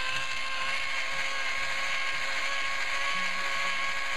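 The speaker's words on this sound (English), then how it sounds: "Now as the drill increases in speed, you can hear it." A power drill spins a cylinder hone inside an engine block, giving a steady high-pitched whine with a dense grinding buzz that holds constant and loud throughout without any voices.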